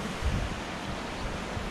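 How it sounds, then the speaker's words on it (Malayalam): A river flows beside a riverside restaurant at a highway motel in Armenia, heard as a constant, even rushing of water close by, with no voices over it. "അതാ ഇവിടെ ശരിക്കും ഒറിജിനൽ പുഴയാണ്"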